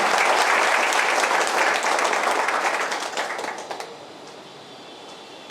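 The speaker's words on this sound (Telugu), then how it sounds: "మీరందరూ చప్పట్లతో స్వాగతం పలకాలి" A crowd at a police academy claps loudly and continuously in welcome, then the applause thins out and fades away toward the end.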